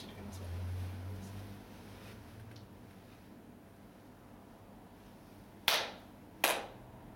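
Two sharp ritual hand claps at a Shinto purification ceremony, single crisp strikes about a second apart near the end, following a quiet stretch with a low murmur.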